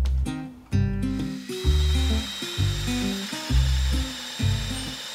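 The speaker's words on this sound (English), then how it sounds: "I took my time drilling the hole halfway, then flipped it over and kept drilling to prevent blowouts." Drilling a hole with a Forstner bit held in a portable drill guide: the motor revs up in repeated bursts with stepped changes in pitch, loud and close, each burst followed by a short pause, with no speech.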